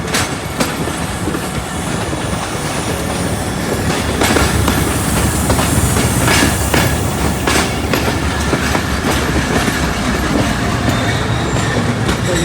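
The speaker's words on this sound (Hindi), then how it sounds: "ठीक 3:45 बजे ट्रेन अप्रोच बना रही है" A Safari passenger train pulls into Rawalpindi railway station, a loud, steady rumble with clickety-clack wheel beats and faint squeals running throughout, close by with no talking.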